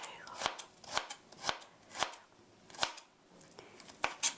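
Knife chopping tomatoes on a cutting board for tomato soup: a run of sharp, evenly spaced chops, about eight in four seconds, close and fairly crisp with no talking.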